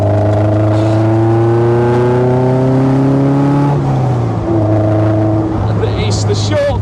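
A Westfield SEiW sports car with 168 brake horsepower driven fast on a public road, its engine note loud and rising steadily as it revs through a gear, then dropping with a shift and climbing again, heard from onboard.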